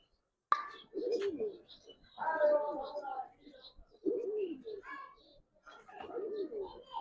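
Giribaz coloring highflyer pigeons coo in several bursts and flutter about in a cage, with a sharp tap at the start. The calls are close and clear and come with short gaps between them, over a quiet background.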